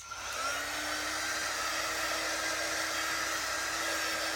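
A hair dryer drying stencil paint on a DIY coffee sign, switching on after a faint click and then blowing with a steady, close, continuous roar and a faint whine.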